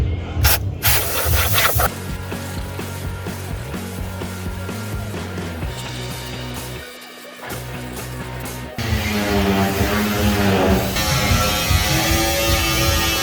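Compressed air blasts debris out of the engine bay of a 2011 Dodge Durango 3.6 V6 with a loud, harsh, continuous hiss that briefly drops off and then surges again.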